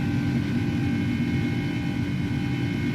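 A lightly loaded Airbus A300 jet climbing out after a flex takeoff in a flight simulator game, with a steady, even engine rumble and hum holding constant throughout.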